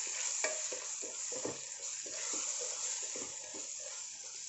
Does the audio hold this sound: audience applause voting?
no